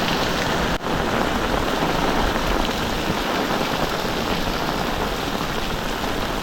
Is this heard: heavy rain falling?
yes